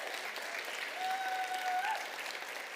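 Steady applause from a crowd at a university startup showcase, a continuous wash of clapping at moderate distance with a brief faint whistle-like tone in the middle.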